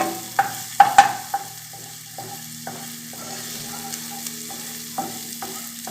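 Garlic fries in a pan for chicken adobo cooked without oil, a light steady sizzle with a few sharp clinks and scrapes of a utensil early on, close and alone.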